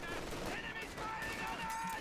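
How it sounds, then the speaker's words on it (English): Machine gun bursts crackle amid steady battle noise in a WWII strategy video game with a Blitzkrieg mod, dense and continuous with no clear breaks between shots. "MG has opened up against this rifle"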